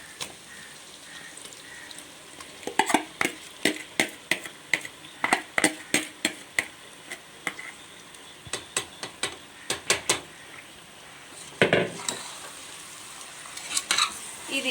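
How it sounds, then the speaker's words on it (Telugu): Marinated chicken and tomato are stirred in a cooking pot, a quick run of close, sharp scraping clinks against a low frying sizzle, with bursts of heavier stirring and brief pauses between strokes. "ఇది ఇలా కలుపుకుంటూ ఒక్క నిమిషం, ఎక్కువ కాదు, ఒక్క నిమిషం పాటు ఇలా కలిపి"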